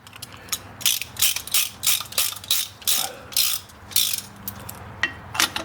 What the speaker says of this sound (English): Let's see if we can get it to where you can see it compressing the piston.